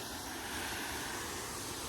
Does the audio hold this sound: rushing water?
yes